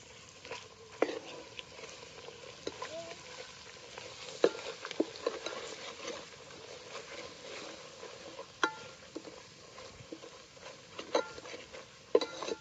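Ground masala paste frying in a pan for a village-style chicken curry, a steady close sizzle with occasional sharp pops and stirring scrapes, fairly quiet throughout.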